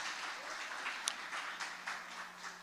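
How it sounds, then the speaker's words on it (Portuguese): A church congregation applauds with dense, steady, moderately faint clapping and a few sharper individual claps. "Quem pode aplaudir o Senhor Jesus por esta revelação?"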